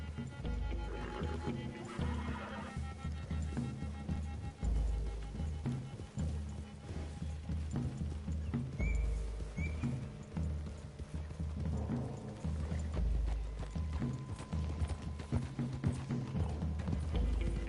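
Horses in Red Dead Redemption 2 clip-clop steadily through a wooded clearing, with occasional whinnies and neighs over a dense, continuous game soundscape; no talk.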